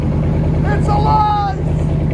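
A Ram 1500 5.7L Hemi pickup with true dual exhaust and 5-inch tips gives a deep, steady rumble with a rising rev in the middle, loud and close, with voices talking over it.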